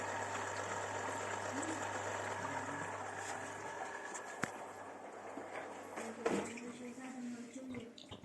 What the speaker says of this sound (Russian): Я снова приоткрыл дверь и закрыл ее, чтобы прислушаться к мотору-рециркулятору поближе.